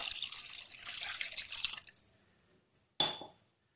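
Water poured into a pan of fish curry, a steady splashing pour for about two seconds that tapers off, followed after a brief pause by a short sharp clink.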